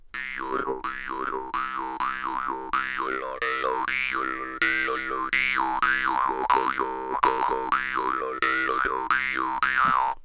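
A jaw harp twangs steadily with a low drone while throat and tongue shifts sweep its overtones up and down in wobbling, vowel-like swells, played alone and up close.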